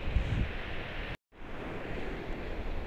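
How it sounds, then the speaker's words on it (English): A southwesterly wind blows across the microphone on Goring beach, a steady, loud roar of broadband rushing noise with a brief dropout partway through and low buffeting gusts early on. "the southwesterly wind's coming in from this direction"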